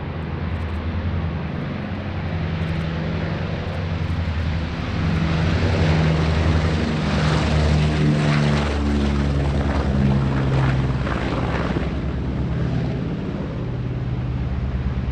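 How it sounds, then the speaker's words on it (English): The B-29 Superfortress Doc makes a low flypast at an airshow, its multiple piston propeller engines producing a sustained, loud droning roar that swells and holds throughout. "B-29 Superfortress Doc was present at the show and performed some flypasts as it left for"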